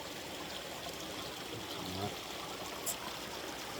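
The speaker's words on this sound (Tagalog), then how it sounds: "Ito na sapa oh." A clear forest stream flows steadily in woodland, a soft continuous wash of water close by with a brief louder gurgle midway.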